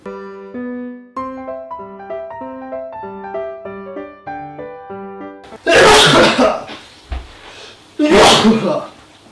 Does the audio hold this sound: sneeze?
yes